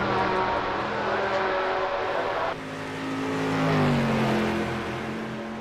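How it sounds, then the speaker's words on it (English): Race car engines roar in the iRacing sim during a short-track league session, a steady loud multi-car drone with tonal engine harmonics that shift pitch midway as the cars rev, with no talking. "You can hear the engines roaring."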